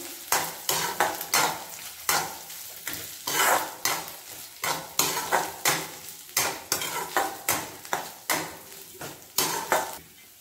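A coarse ground paste of peanuts and garlic is sautéed in oil for a chickpea greens dish, with rhythmic scraping stirs in a pan over a continuous sizzle, repeated at a steady pace throughout.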